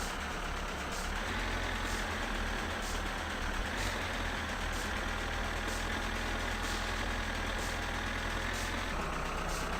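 A car engine idles steadily in My Summer Car, a low, even rumble that holds for several seconds with faint periodic clicks and no voices.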